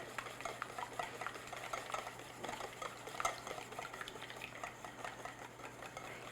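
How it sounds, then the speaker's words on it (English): Flavorless vegetable oil being whisked into muffin batter in a bowl, a quiet, steady rhythmic scraping and stirring that continues evenly throughout with no talking. "Let's whisk that in."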